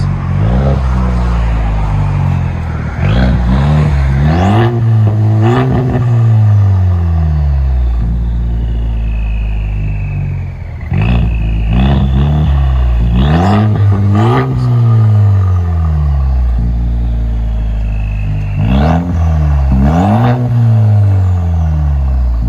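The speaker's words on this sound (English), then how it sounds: "Let you guys hear it on the inside" A Chevy Silverado with a 2.7L turbo engine and straight-pipe exhaust revs repeatedly, the engine note rising and falling in loud, raspy surges with brief idle gaps between them, heard up close.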